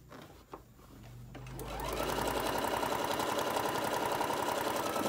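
A sewing machine stitches fabric while a mat is being made. After a quiet start with a brief rustle, the motor spins up into a loud, steady, rapid whirring run that continues to the end.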